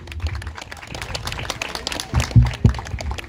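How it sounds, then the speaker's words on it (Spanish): A crowd applauds the mayor at a local football final in La Maria, Santa Lucía, Honduras: a dense, steady clatter of many hands with a few louder bursts near the end, no voices on top. "Le escuchamos fuerte los aplausos."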